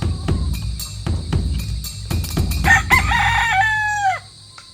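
A rooster crows loudly near the end of a comedic skit, its long call rising and falling before cutting off, following a stretch of scuffling and knocking sounds.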